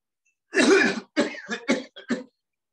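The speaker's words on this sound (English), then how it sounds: "This time you breathe in and cough loudly for 3 to 4 times." A person coughs loudly several times in quick succession: one long forceful cough followed by a cluster of shorter, sharper coughs.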